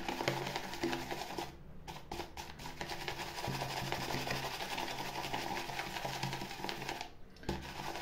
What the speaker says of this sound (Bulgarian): Опитвам се малко по-бързо да разбия пяната